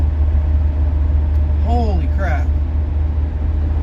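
A heavily smoking 1979 Mercedes car engine drones steadily at about 40 mph, a loud low rumble filling the cabin while a man briefly exclaims over it.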